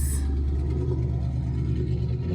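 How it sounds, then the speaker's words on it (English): Traffic noise from passing cars heard from inside a parked car, a low engine rumble and hum that stays steady and fairly loud for about two seconds. "Sorry about the traffic noises"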